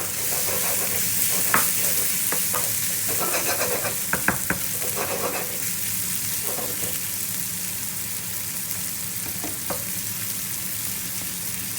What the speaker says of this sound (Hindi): लहसुन अदरक का दूसरा तड़का हम बना रहे हैं।